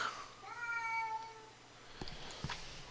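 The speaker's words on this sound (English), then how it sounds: "Sorry, I just had to check on my cat here. He's just acting weird for some reason." A cat meows indoors in a drawn-out, wavering call lasting about a second, followed by a couple of faint soft clicks and thumps, with no talking.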